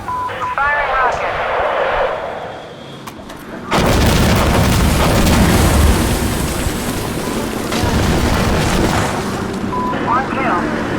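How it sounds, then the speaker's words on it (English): A rocket fired in the video game Insurgency Sandstorm: a sudden loud boom, then a sustained rumbling blast that decays slowly. Faint chatter can be heard before and after. "Firing rocket"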